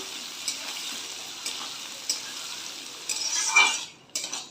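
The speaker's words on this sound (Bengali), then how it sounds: "এবার আমি এর মধ্যে এখানে পেঁয়াজগুলো দিয়ে দিচ্ছি একেবারে পেঁয়াজটাও লাল হয়ে যাবে" Onions tipped into a pan with browning potatoes and stirred, for a jackfruit and chicken curry: steady frying hiss with scattered utensil scrapes and clinks, a busier burst of stirring near the end, no talk.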